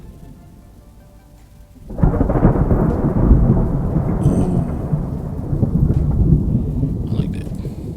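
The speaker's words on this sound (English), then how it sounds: "Distant thunder rolling off across the cliffs." A synthetic sound effect of distant thunder rolling across cliffs builds after a quiet start into a long, dense, deep rumble that sounds like a heavy downpour. It carries on steadily to the end, with a brief exclamation near the start.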